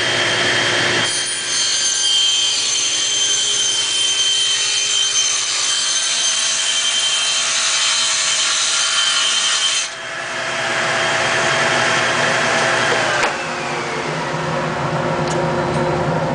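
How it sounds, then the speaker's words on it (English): A table saw and a dust collector run together in a woodworking shop, a loud steady whir and rushing roar that holds throughout with slight shifts in tone, no talking. "let me turn on the dust collector, turn on the saw"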